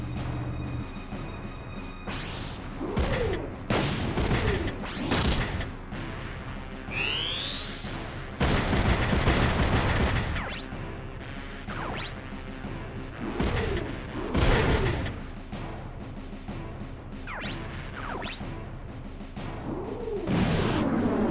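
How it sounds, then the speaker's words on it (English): Repeated booming grenade explosions and gunfire from the Front Mission 3 PlayStation game at the Abukuma River mission, heavy blasts and rumbling bursts recurring every few seconds over a continuous loud battle din, with no talking. "grenade fire is gonna be around this area"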